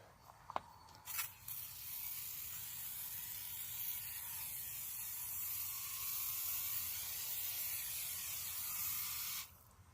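Tire shine sprays onto a car tire in a steady, soft hiss lasting several seconds after a couple of brief clicks, close up and with no talking.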